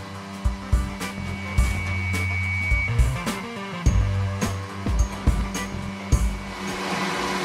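A DX100 photo printer, one of four running together for school portrait prints, whirs and hums continuously while printing, with frequent mechanical clicks and thumps over the steady motor noise.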